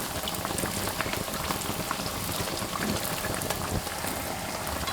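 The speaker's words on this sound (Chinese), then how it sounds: "不停地拨动它，它会随着油温的升高越鼓越大。" Youtiao dough sticks deep-frying in hot oil over medium-high heat, giving a steady, dense bubbling crackle that stays even and fairly loud throughout, with no talking.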